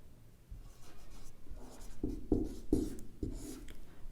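A pen moves across paper in a series of short, soft scratching strokes, faint and close, with a quiet rhythmic pattern of marks and no voices.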